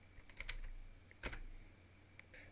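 Scattered keystrokes sound on a computer keyboard while a math problem is entered: a few quick taps, a brief pause, then a sharper cluster of clicks. It is quiet and close, with a faint steady hum underneath and no speech.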